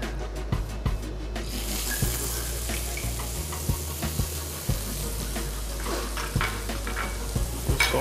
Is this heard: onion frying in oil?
yes